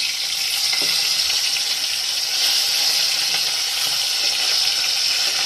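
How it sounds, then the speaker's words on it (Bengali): Four pieces of fish sizzle as they fry in a pan, a steady, close crackling hiss that runs unbroken throughout with no talking. "চার জন্য 4 পিস মাছ ভাজবো"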